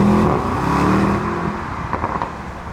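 Mercedes-AMG SL 63 V8 roadster with the top down accelerating hard on a wet road, a loud sustained engine roar that eases slightly, with a few sharp crackles near the end.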